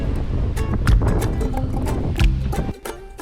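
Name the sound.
strong wind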